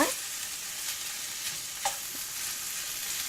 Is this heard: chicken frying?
yes